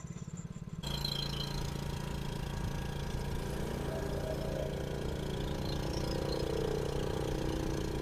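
Motorboat engine on the Narmada river running at a steady, loud drone after a brief quieter start, holding an even pitch throughout.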